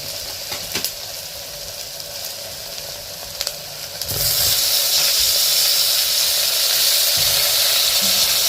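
Onion and tomato fry in coconut oil with fenugreek, mustard seeds and curry leaves, a moderate sizzle with a few clicks that swells midway into a loud, steady, hissing crackle close by, with no talking.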